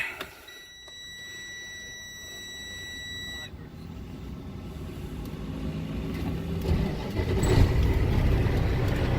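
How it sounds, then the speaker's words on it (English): A truck's engine cranks and starts after beeping warning tones, then settles into a low rumbling idle that grows louder and steadier over several seconds. "Start your truck."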